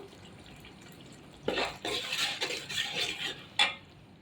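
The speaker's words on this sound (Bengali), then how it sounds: "আরও কিছুক্ষণ আমি মশলাটা কষাবো যখন তেল তেল চলে আসবে তখন আমার মশলাটা মোটামুটি হয়ে আসবে" Spice paste with tomato sauce being stirred and fried in a pot for a shahi roast, with bursts of scraping and sizzling from a spoon against the pot after a quiet start.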